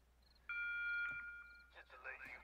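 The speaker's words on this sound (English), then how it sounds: "I swear to God, that buzzer scares the shit out of me." A loud electronic buzzer tone in the survival video game 7 Days to Die sounds for about a second, then a rustling of game activity follows.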